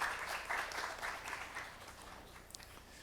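Moderate crowd applause welcoming a speaker at a press conference, a steady wash of clapping that gradually thins out, heard from a short distance.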